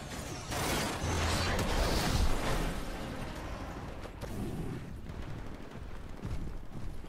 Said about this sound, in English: this shows you how quickly you can die when there's a Titan shooting at you